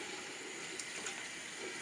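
A kitchen faucet runs water into a pot for cooking corn, giving a steady, even rush of flowing water that stays constant throughout, with no talking.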